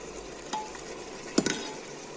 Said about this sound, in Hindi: अब हम इसमें करेंगे ऐड फूल गोभी, कॉलीफ्लावर। अब इनको खूब सारा फ्राई करना है।